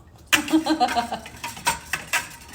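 Spoon clinking and scraping inside a tall pitcher while blueberry lemonade is stirred, a run of irregular taps and rattles close by with no one speaking.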